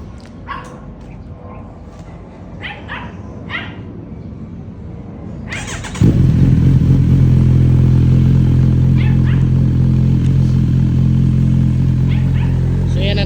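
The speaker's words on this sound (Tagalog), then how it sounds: "So yan ang tunog ng mas mahabang isip project na exhaust." A Kawasaki Ninja 1000 with an aftermarket exhaust pipe idles with a steady, deep, close rumble that starts abruptly partway through, after scattered voices and yaps.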